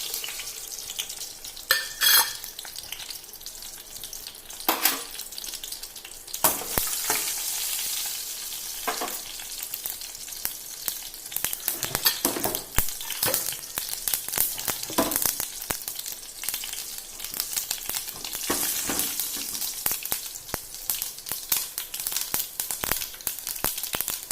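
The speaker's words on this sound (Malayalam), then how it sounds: "എണ്ണ ചൂടായിട്ടുണ്ട്. ഇതിലേക്ക് കടുകും വറ്റൽമുളകും ചേർത്ത് കൊടുക്കാം." Mustard seeds and dried red chilies fry in hot oil, giving a continuous close sizzle dotted with sharp crackles and pops that flare up again and again, with no voices.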